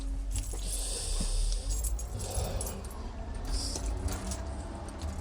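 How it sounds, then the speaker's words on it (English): A bunch of keys jangles and rattles continuously up close while a door is being locked outdoors, with bright metallic clinks rising and falling over a low background rumble. "Let me lock the door."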